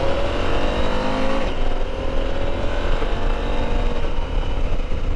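A KTM 890 Adventure R motorcycle engine revs up and pulls away, the pitch climbing steadily as it accelerates, loud and close throughout.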